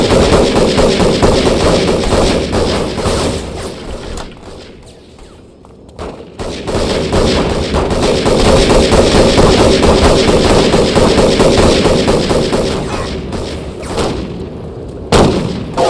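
Dense, continuous video-game gunfire in the shooter Devastation: loud rapid shots and thuds layered almost without pause, with a short lull partway through before the firing resumes at full intensity.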